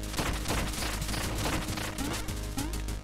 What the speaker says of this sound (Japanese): ネズミが爆発してネズミの爆発はいらんやろ。